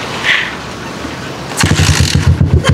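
An old, junked motorcycle engine catches and runs after repair, a close, lumpy idle with uneven revving bursts following a stretch of scraping workshop noise.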